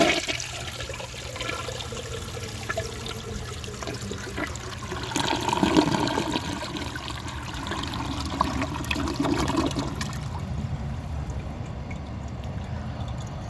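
A 1973 Eljer Hi-San low-tank toilet flushes with a loud rushing surge of water that swells midway and then tapers into a quieter refill trickle, heard up close with no talking.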